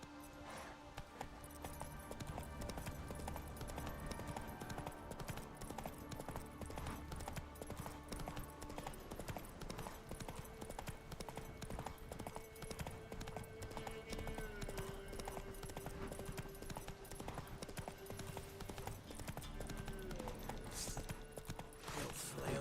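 A horse gallops in The Witcher 3 with a continuous, quick run of hoofbeats, fairly quiet and blended with layered game music and ambience throughout.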